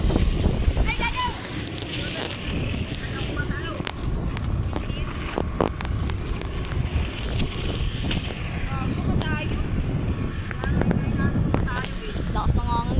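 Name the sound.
strong wind while flying a kite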